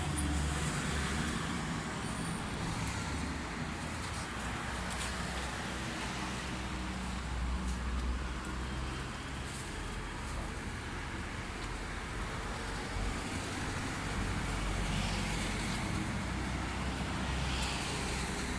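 Steady roar of heavy through traffic on one of a town's busiest streets near Lake Arenal, cars, buses and trucks passing continuously at close range with a dense, unbroken wash of engine and tire noise and no talk.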